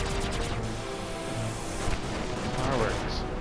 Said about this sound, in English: Oh, that's his minigun.